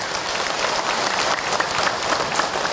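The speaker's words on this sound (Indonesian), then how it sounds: "boleh tepuk tangan untuk Ahil mana ibu" Audience applause at an Islamic religious lecture, a dense even burst of clapping from a crowd, steady for the whole short stretch with no talk over it.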